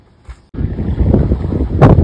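Steady gusty wind roaring against the microphone beside a parked RV, its damaged, zip-tied awning flapping and thumping loosely outside an autobody shop, with one sharper flap near the end.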